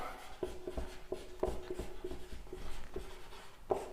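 Short scratchy writing strokes on a board, about a dozen quick taps and scrapes in an uneven rhythm, close and fairly quiet, with no voices.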